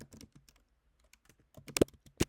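Typing on a computer keyboard, a quiet run of close, scattered key clicks with a couple of sharper, louder keystrokes near the end.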